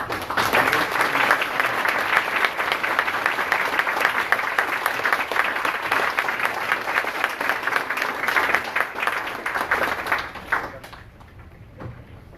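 A forum audience applauds for its departing speakers: dense, steady clapping from a large crowd that carries on for about ten seconds before thinning out and fading near the end.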